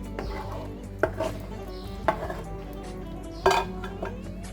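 Shrimp cooking in a frying pan, with utensil clatter and stirring against the pan in a few sharp knocks over a steady low background sizzle.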